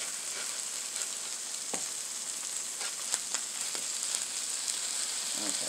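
Birria chicken tacos sizzle and crackle steadily on a hot flattop griddle, with a constant close frying hiss and a few sharper pops and spatters scattered throughout.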